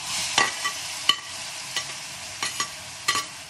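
Salt cod frying in oil with anchovies, capers and chili over high flame, a steady close sizzle broken by a handful of sharp stirring scrapes at irregular intervals.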